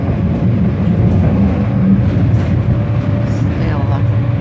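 Inside a moving tram, a steady low rumble of wheels and motor fills the cabin with faint rattles, heard continuously throughout.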